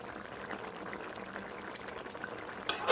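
Cabbage kofta curry with potatoes bubbles in a pot, giving a soft, continuous fizzing simmer at moderate distance, with a brief louder clatter near the end.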